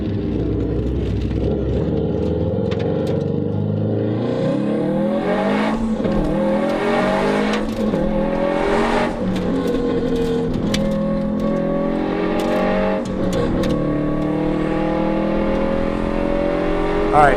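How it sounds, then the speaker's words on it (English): A car engine warming up at a car show revs repeatedly, pitch climbing and dropping in smooth sweeps, loud and close, with a steady idle underneath between pulls. "We're gonna let the car warm up"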